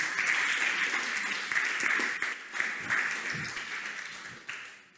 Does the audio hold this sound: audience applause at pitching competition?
yes